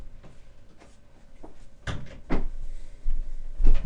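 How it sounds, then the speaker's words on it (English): An indoor door is pushed shut, with a few soft bumps and handling knocks building to firmer thuds and a final closing knock, fairly close and without talk. "So let me shut this door."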